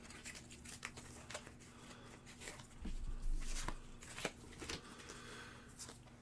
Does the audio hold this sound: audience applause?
no